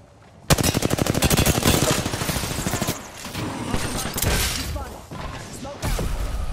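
Heavy automatic gunfire in Apex Legends, a loud rapid burst kicking in after a quiet start, then continuing sporadic shots and impacts with a fresh burst near the end.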